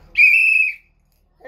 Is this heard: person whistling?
yes